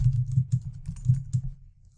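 Close-up typing on a computer keyboard: a quick, uneven run of soft key clacks and thumps that slows toward the end.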